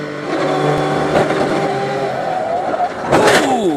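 A race car at speed during a motor race, engine droning loud and close before a sharp burst of impact-like noise near the end as it crashes.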